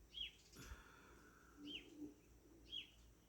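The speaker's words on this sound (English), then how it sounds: "hello there, little bird." A small bird chirping indoors or nearby, three short, high, clear chirps spaced about a second apart, faint against a quiet background with soft low rustles.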